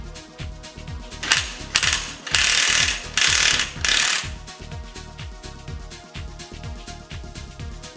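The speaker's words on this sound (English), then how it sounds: "loosen the primary gear nut." Nut puller loosening the primary gear nut on a Bajaj Pulsar NS 200 engine: rapid rhythmic ratchet clicking, close and steady, with a louder burst of grinding mechanical rattle midway before the clicking resumes.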